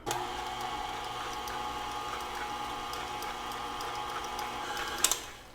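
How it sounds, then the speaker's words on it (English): An electric stand mixer on low speed beats apple ricotta cake batter with almond flour, giving a steady whirring motor drone with a mechanical rattle, close by, ending in a couple of sharp knocks. "So just on low speed, you're gonna mix it until it's fully combined, but not overly mixed."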